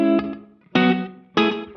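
Short room reverb from an Ibanez SDR-1000+ effects unit on electric guitar: three struck chords, each ringing out with a brief, tight room tail that fades quickly, loud and close with no talking.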